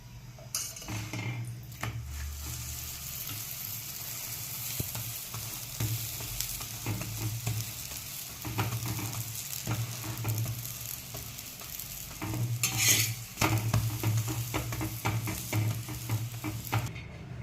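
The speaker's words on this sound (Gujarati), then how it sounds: "એ પરોઠો મૂકી દેવાનો શેકવા. હવે આપણે તેલ એડ કરી દેવાનું." A paratha frying in oil on a pan gives off a steady nearby sizzle, with intermittent clinks and scrapes of a spatula against the metal.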